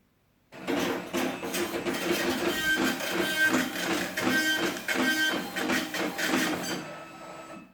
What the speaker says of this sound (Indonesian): Untuk print ke printer LX310, Anda memilih print invoice yang tidak ada pilihan PC-nya.